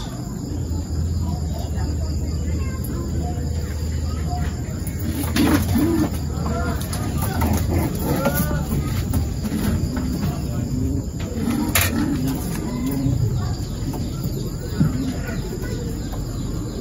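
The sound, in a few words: pigeons cooing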